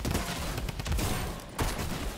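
Rapid bursts of gunfire from a Fortnite squad match ring out loud and dense, a sustained volley of shots with a brief lull before another burst near the end.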